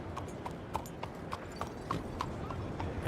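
Horse hooves clip-clop at a steady walking rhythm on a dirt path in a Red Dead Redemption 2 game scene, with regular soft hits over a low ambient background.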